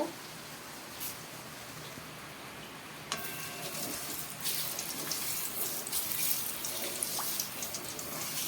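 Three cut potatoes sizzling in oil in a wok, a close, crackling fry that starts soft and grows louder and denser partway through, with scattered pops and spatters.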